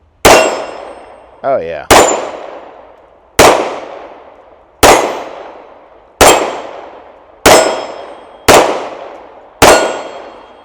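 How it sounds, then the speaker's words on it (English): Eight .45 ACP shots from an EAA Girsan MC 1911S pistol ring off steel targets outdoors, each a sharp crack followed by a ringing metallic clang, spaced roughly a second apart; someone briefly speaks once between shots. "take a few shots, put some on steel, and see how this European American Armory Girsan MC 1911S runs"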